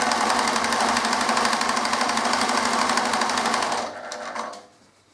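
A domestic sewing machine runs steadily, stitching leatherette strips down the front edges of a Viking cloak, a continuous close whirring that slows and stops near the end.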